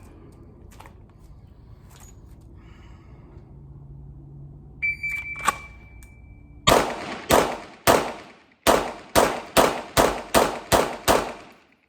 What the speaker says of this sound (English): we're going to try this 10-10-10 drill and see how quickly and accurately I can get my shots off on this new gun